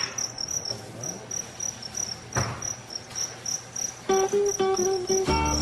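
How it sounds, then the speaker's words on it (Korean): Two-spotted crickets kept as edible insects chirp in a steady, shrill pulsing trill throughout, with some nearby handling clatter and a brighter burst near the end. "그리고 귀뚜라미입니다."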